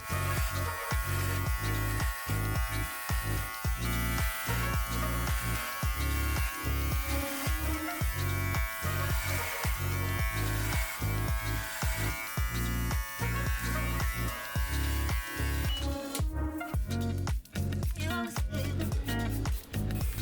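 A BRIO Beardscape V2 electric beard trimmer runs with a steady buzzing hum, pulsing as it is pressed through short beard hair, then breaks into a rougher, choppier sound near the end.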